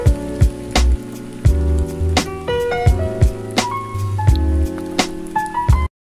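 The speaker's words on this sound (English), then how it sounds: "the rain sound might be a bit too loud for me" Rain sound effect used as a background layer in an edited video, heard as steady patter and drips mixed with loud rhythmic music hits and thumps, ending abruptly in silence.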